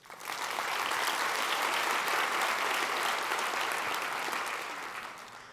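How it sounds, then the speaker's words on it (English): A large audience applauds steadily, dense sustained clapping from a crowd that holds strong for several seconds and then tapers slightly at the end. "That deserves a round of applause."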